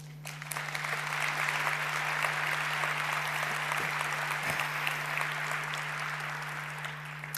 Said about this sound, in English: please give a warm applause to Mustafa